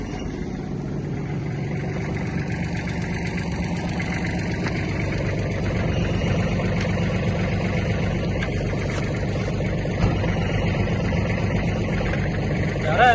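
Small 30-horsepower Kubota GL300 Japanese mini tractor with a cab, its engine running at a steady idle, a close, continuous low mechanical hum that holds even throughout with a slight rise near the end.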